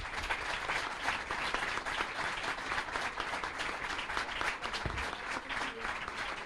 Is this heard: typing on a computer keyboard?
no